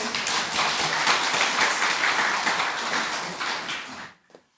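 A church congregation applauds a choir's performance during a Sunday service, a dense, steady burst of clapping lasting about four seconds before cutting off abruptly.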